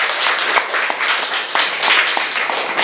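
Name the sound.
applause in a church service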